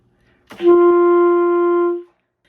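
A single sustained saxophone note, a low D, held steadily for about a second and a half, clean and alone before cutting off.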